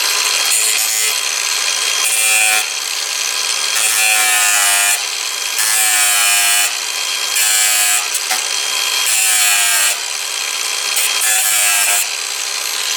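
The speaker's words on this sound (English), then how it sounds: "now I have to cut carefully these two steel bars in here, my angle grinder" An angle grinder cuts through steel bars near a Toyota Prius engine, making a loud, continuous harsh whine that comes in repeated strokes with brief dips between cuts, close and alone with no voices.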